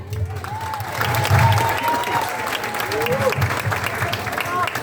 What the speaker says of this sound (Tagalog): Ang hina naman ang palakpak niya.